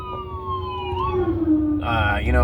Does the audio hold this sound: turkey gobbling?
no